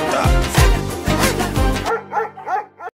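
Rhythmic dog barks and yips are set to a thumping music beat in a remix, several punchy barks in quick succession over the bass. The beat then drops out, leaving a few lighter barks alone.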